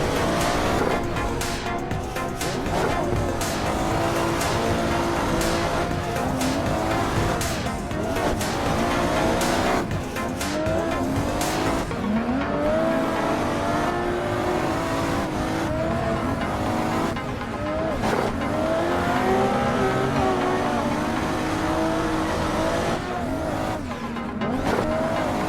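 A Toyota JZX100 drift car in Assetto Corsa revs hard with continuous engine howl and repeated long tire squeals, loud and close throughout as it slides through corners.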